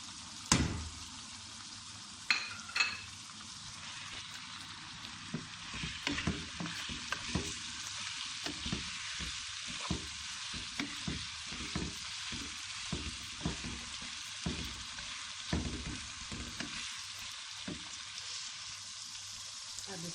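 Onions and ginger garlic paste fry in a pan with a steady, fairly faint sizzle, broken by irregular clicks and scrapes of stirring throughout.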